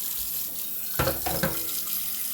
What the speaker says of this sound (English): I'm going to fill up the pot of water and get the water boiling.